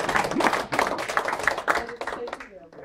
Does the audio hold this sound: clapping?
yes